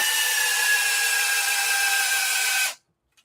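A DeWalt power drill drives a fastener into wood with a steady high-pitched whirring grind, close and loud, running for nearly three seconds before stopping abruptly into silence.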